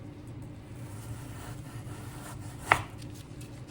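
Knife cutting through firm shredded-style pork on a board, a single sharp chop standing out over a steady low background hum, with faint rubbing of the blade before it.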